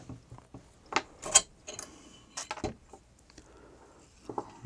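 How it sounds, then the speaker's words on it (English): Someone takes apart a Marlin Model 60 rifle and pulls down its bolt, making scattered metallic clicks and scrapes, a few sharper snaps among quiet handling noise, close by with no speech. "we're going to pull down this bolt"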